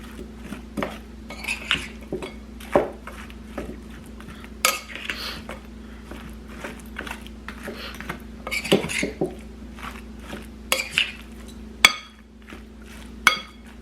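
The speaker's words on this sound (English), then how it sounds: "Let me stir this up." A spoon clinks and scrapes around a bowl while pizza stuffed shells filling with spinach is stirred, producing irregular metallic taps and knocks with a few sharper clanks, close and alone over a low background hum.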